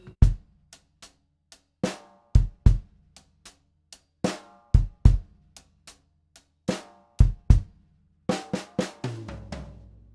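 Drum kit alone playing a four-bar groove from a grade 3 lesson: steady hi-hat ticks, punchy snare backbeats and kick, ending in a tumbling tom fill, close and clear.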